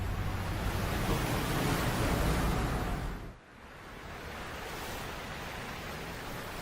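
Sea surf washing onto a shore where seal pups are stranded, a steady loud broadband roar that dips briefly midway before rising again, with no voices.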